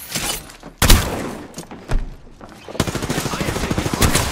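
Automatic gunfire from the shooter game Apex Legends crackles in loud close bursts, with a sharp blast near the start and a dense rattling volley through the second half.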